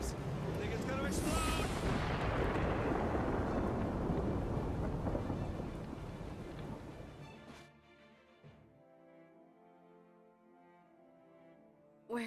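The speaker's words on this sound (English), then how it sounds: "You were injured when the elemental exploded." A huge rumbling blast as an elemental explodes in the video game Guild Wars 2, loud and roaring for several seconds before tailing off into a quieter tonal hum.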